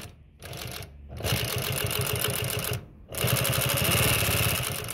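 A Consew 206RB-5 industrial sewing machine stitching heavy polyester thread, running in fast rhythmic bursts with two brief pauses between runs, loud and close with no talking.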